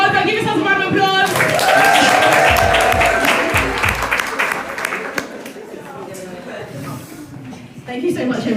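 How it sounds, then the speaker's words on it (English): Audience at a live salon hair-care event gives a loud round of applause that swells, then gradually thins into scattered claps as a speaker's voice carries over the fading clapping. "Give yourselves a round of applause."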